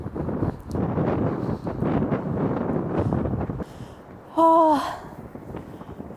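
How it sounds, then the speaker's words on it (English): Strong storm wind in Lapland buffets the microphone in a steady, roaring rush, broken near the end by a brief loud tonal burst and a short spoken exclamation. "It's so windy."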